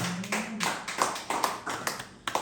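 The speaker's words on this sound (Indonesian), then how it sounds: "Yang percaya tepuk tangan buat Tuhan" Scattered church audience clapping for God during a sermon, a handful of sparse, uneven claps rather than a full round.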